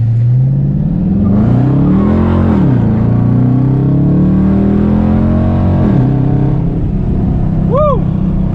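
A 2019 Dodge Charger R/T fitted with an aFe cold air intake accelerates hard, its engine droning loudly and steadily with rising and falling pitch as it pulls through the gears, heard continuously from inside the car.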